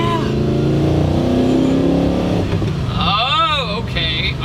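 A Spyker C8 sports car engine revs loudly over steady rumbling, pitch sweeping up and down near the end, with voices talking underneath.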